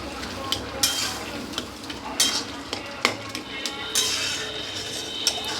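Cabbage with dal is stirred in a frying pan over a soft sizzle, with repeated sharp scrapes and clinks of a utensil against the pan at an uneven rhythm.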